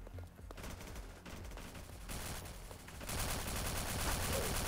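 Video-game gunfire from a three-shot gun: continuous, dense rattling shots and explosive bursts, moderately loud and growing fuller toward the end.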